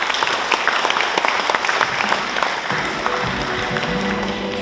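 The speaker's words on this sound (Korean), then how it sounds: "큰 박수 한번 해주시죠." A large audience claps warmly at a Gaya history academic presentation conference in Daegu, a dense, steady wash of applause lasting several seconds.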